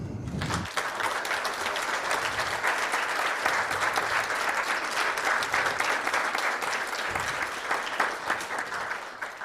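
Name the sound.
ceremony audience applause for donors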